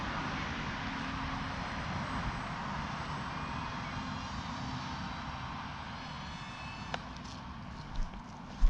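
Small RC Predator model airplane coming in to land, its faint, thin motor drone hovering steadily at a distance, followed by a sharp click and a few soft bumps near the end.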